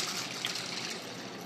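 Rinse water poured off washed lentils into a sink, a steady close splashing trickle that runs continuously without pause for a moment.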